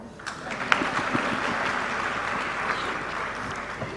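An audience at a women's initiative event claps in a hall, producing steady, dense applause of many hands at moderate volume that holds evenly throughout.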